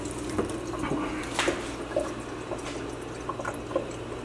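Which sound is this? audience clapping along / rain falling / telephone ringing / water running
water running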